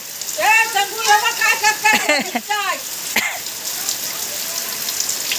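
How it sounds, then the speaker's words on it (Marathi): Rain falls steadily in a Konkan village during the season's first downpour, a soft hiss beneath a child's and adults' excited voices in the first few seconds, then a quieter wash of drops continuing alone. "थोडासा कमी झालाय पाऊस"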